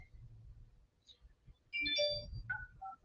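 A phone rings while a brokerage is being called, with short electronic ringback tones in a brief rising pattern over a quiet background.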